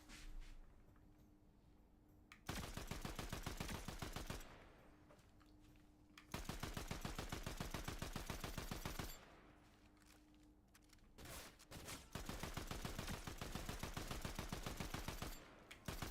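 Bursts of rapid automatic gunfire from the video game Fortnite rattle out in three sustained volleys separated by brief quiet gaps, with single shots trailing at the end.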